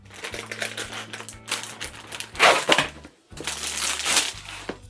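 Someone types on a wired mechanical keyboard with black switches, producing a rapid, uneven run of close, crisp clacks that come in bursts with a short pause partway through.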